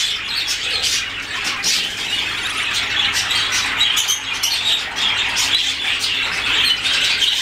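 A white cap bird calls close by in a steady run of sharp chirps and tweets, repeated without pause and with no voices.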